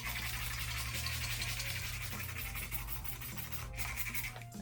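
Turbo Scrub Pro electric scrubbing brush running against a surface, a steady motor hum with a scratchy scrubbing texture, close and continuous throughout.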